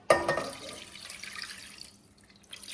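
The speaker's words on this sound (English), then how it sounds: "put my Tooloo beef and add water." Water is poured into a cooking pot over Tooloo salted beef for a rural African jollof, opening with a sharp splash and then settling into a softer trickle that fades and returns faintly.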